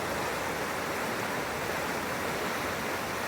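Creek water flowing past a large rock, a steady, close, full rush of moving water that runs evenly without pause or voices.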